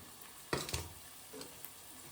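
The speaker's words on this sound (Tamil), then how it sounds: "பச்சை மிளகாய் போட்டதுக்கப்புறம் இப்போ தக்காளி போடுறோம்" Tomatoes hit a pan with green chillies, setting off a sharp burst of frying and a couple of stirring clatters, then a steady, quieter sizzle continues close by.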